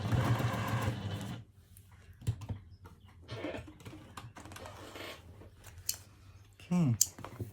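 A sewing machine runs in a short burst, stitching down a seam on a cotton wallet, then falls quiet to leave scattered soft handling clicks and a brief closing whir.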